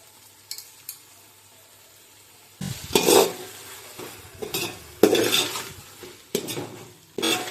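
A spoon scrapes and clatters in a hot pan as ginger garlic paste, mint and coriander are stirred for a vegetable dum biryani, in repeated close bursts over a faint sizzle, with no voices.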